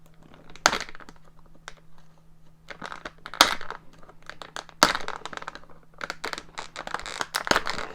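A Draco figure with a broom is freed from plastic toy packaging, heard as sharp snips, crinkles and cracks that come in irregular bursts, close and fairly loud against a quiet room.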